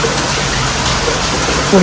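Heavy rain pours down in a dense, unbroken roar of hiss, loud and constant throughout, with no clear thunder standing out.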